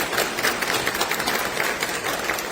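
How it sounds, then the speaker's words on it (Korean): A church congregation at Sunday worship applauds the pastor's family, a moderate, fairly even patter of many hands clapping together, a little distant, with no voices over it. "우리 박수로 한번 감사하겠습니다"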